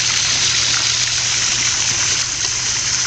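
Steady rushing water flowing continuously, a close, full broadband wash with a faint low hum underneath and no voices.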